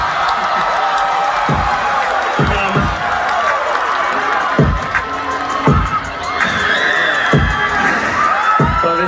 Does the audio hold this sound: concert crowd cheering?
yes